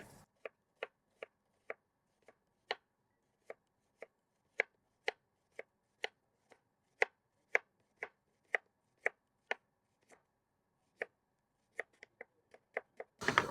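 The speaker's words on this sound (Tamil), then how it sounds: "நம்ம ஆனியனை ஸ்லைஸ் பண்ணி டொமேட்டோவை சாப் பண்ணி வச்சுக்கலாம்" Onions being sliced and tomatoes chopped with a knife on a board, a steady run of about thirty crisp, evenly spaced chops that speed into a quick flurry at the end, close and clear with no talk.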